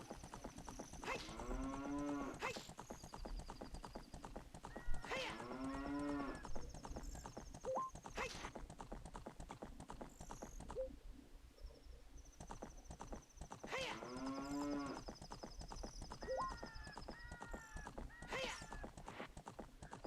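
Cows in Zelda: Ocarina of Time give several repeated moos at regular intervals, each a wavering, drawn-out call. Steady hoof clip-clop and game ambience run beneath them.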